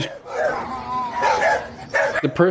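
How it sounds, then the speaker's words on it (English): Several dogs bark aggressively, layered over a ghost video, with a person's distressed vocalizing running alongside; the barks come in rough, overlapping bursts and grow denser toward the end. "the dog's barking is overlaid on top of that because of how it doesn't slowly pick up, it just pops in"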